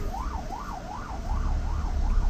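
An ambulance siren wails in the aftermath of Hurricane Melissa in Jamaica, a steady rising-and-falling tone that carries over a low rumble of wind and background noise, with no one speaking.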